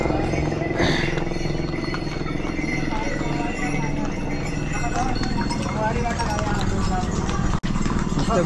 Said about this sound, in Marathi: घोडे.